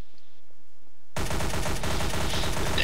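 Sudden loud burst of rapid automatic gunfire in the video game Trouble in Terrorist Town, bursting in after a near-silent opening and continuing steadily to the end.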